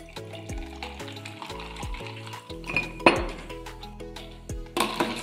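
A ginger mocktail of ginger syrup and Fanta stirred in a glass, with clinks and scrapes of a spoon against the glass over a steady tonal background, alone without talk.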